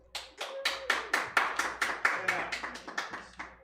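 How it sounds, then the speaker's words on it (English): An improv comedy audience claps in a quick, even rhythm, about a dozen crisp hand claps close by. "please clap for him"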